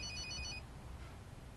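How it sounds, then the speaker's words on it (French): A telephone ringtone chirps in short repeated bursts for about half a second, then fades into low background noise. "Téléphone. Ça sonne,"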